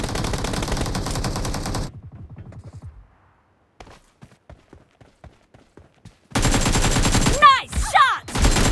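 Rapid automatic gunfire from the mobile battle royale game BGMI, played on a 9th-generation iPad: a loud sustained burst, a quieter stretch of scattered single shots, then another loud dense volley with sharp whooshing effects.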